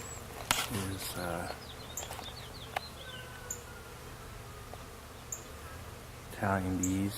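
Russian honey bees buzz at the hive, a faint steady hum under outdoor ambience with occasional bird chirps, while someone talks intermittently nearby.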